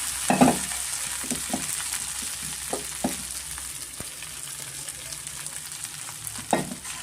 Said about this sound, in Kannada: ನಾನು ಕಲಸಿಟ್ಕೊಂಡಿದ್ದೀನಲ್ಲ ಅದನ್ನು ಒಗ್ಗರಣೆ ಮಾಡ್ಕೊತಾ ಇದ್ದೀನಿ